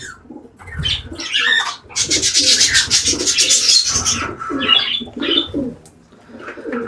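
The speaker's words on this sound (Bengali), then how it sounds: "এরা খুবই একটা ভীত পাখি মানুষ দেখে অনেক ভয় পায় এবং খুব চিল্লাফিল্লি করে" Loud, harsh bird calls and screeches burst out repeatedly, close by, with chattering squawks overlapping in an agitated flurry.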